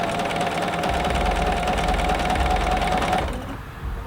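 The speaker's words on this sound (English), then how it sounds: "Peer under, place, and sew." A sewing machine runs at a steady fast rattle while stitching piping along a fold for flange and pipe binding. The stitching is loud and close, then stops abruptly near the end, leaving quiet room tone.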